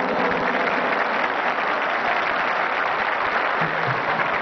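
An audience at a dance with an orchestra applauds for the 65-year-olds, a steady, even wash of many hands clapping at moderate loudness throughout, with no one talking.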